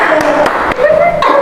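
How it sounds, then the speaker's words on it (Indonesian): Pupils in a classroom clap for their classmates, quick scattered handclaps under a voice speaking over them, close and fairly loud. "coba tepuk tangan untuk teman-temannya dulu"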